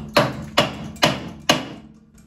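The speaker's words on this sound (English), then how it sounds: "let's give that a bang with a hammer" Four sharp hammer blows strike a metal suspension part on a 1949 split-window Volkswagen Beetle, each ringing briefly before the next, even rhythm, close and fairly loud.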